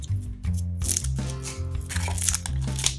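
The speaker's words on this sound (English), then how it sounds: "Gotta unwrap this pen." A Wacom pen is unwrapped from its plastic packaging, with close, crinkly rustling and tearing bursts over a steady low tonal background.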